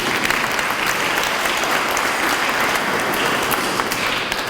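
Steady, dense applause from a church congregation at an Easter Monday service, loud and continuous throughout with no pauses.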